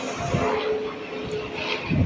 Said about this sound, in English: The plane. The plane. I think that's a helicopter though.